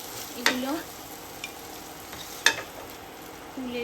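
Paneer cubes fry in a pan with a soft, constant sizzle, broken by a few sharp spatula scrapes and taps as the pieces are stirred; no one speaks.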